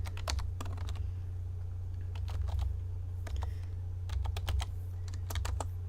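Steady clacking keystrokes on a computer keyboard come in quick bursts with short pauses while a SQL statement is typed, close up over a constant low electrical hum.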